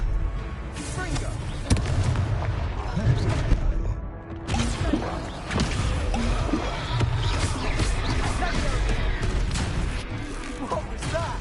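A Confringo blasting spell explodes in the Hogwarts Legacy video game, with several loud bangs and crashes among battle noise, and voices call out over the fighting.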